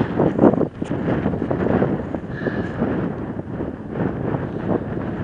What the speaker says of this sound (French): Par contre, il y a énormément de vent.